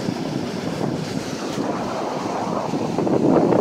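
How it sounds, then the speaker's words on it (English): Wind gusts buffet the microphone on a beach, a loud continuous roar that swells toward the end, with surf noise blended underneath and no speech. "Sorry about the wind, guys."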